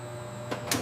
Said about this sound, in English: Vacuum sealing is essential. The chamber removes all oxygen.